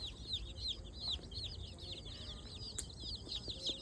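Newly hatched free-range desi chicks on their first day peep shrilly and repeatedly in a shed with a dung-and-soil floor, a constant overlapping chorus of high chirps close by.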